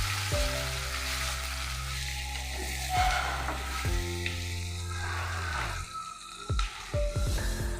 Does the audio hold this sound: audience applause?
no